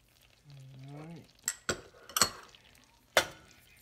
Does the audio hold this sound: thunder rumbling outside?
no